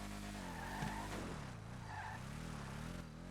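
A video game car revs hard with its emergency brake held, the engine droning and wavering in pitch while tires squeal and skid, steady and fairly close throughout.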